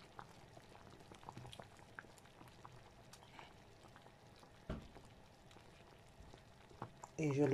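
A pot of shrimp and fish stew, seasoned with shrimp powder and fish powder, simmers quietly with a soft steady bubbling, small pops and clicks throughout, and a louder stir or knock near the end.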